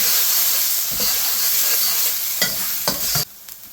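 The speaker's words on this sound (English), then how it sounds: "we're just going to give that all a good stir" Fish jalfrezi curry with chili flakes being stirred in a frying pan: steady close sizzle and steam hiss with a few scraping spoon strokes near the end before the frying quietens.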